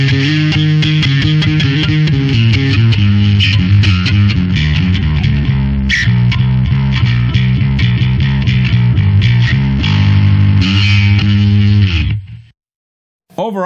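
A bass guitar plays a riff through a Darkglass Electronics Alpha-Omicron distortion pedal, with a gritty, growling tone, loud and steady before cutting out abruptly near the end.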